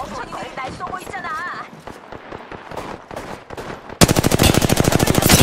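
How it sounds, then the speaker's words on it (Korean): Gunfire rattles through an Apex Legends match, scattered shots under a talking voice at first, then a dense, loud rapid-fire burst of rhythmic machine-gun shots at close range. "멍청이들이 날 쏘고 있잖아"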